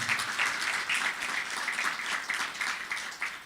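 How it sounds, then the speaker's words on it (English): Audience applause fills a book launch event, steady dense clapping from a crowd sustained throughout at moderate level with no talk over it. "So please give a round of applause to Township Place for putting this event together."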